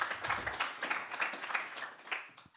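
A modest audience at an architecture prize event in Amsterdam claps in a short, fairly faint round of applause with uneven, scattered claps that fade toward the end.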